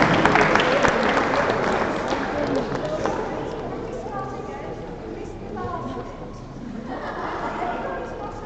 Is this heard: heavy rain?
no